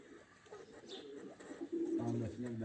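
A racing pigeon coos at a loft during a Nakhchivan pigeon race, its low soft cooing rising near the end over background voices and outdoor noise.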